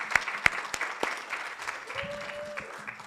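An audience applauds the committees at a national campaign meeting, starting with a few sharp, loud claps and settling into lighter clapping, with a faint tone and some murmuring underneath.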